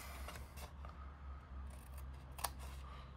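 Scissors snipping notches into the edges of card stock, a handful of short crisp cuts spread across a few seconds, close and fairly quiet over a low steady hum.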